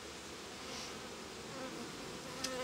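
A first honeybee swarm of the year, unmixed bees, in a beekeeping setting hums as a steady, quiet, continuous buzz with no voices.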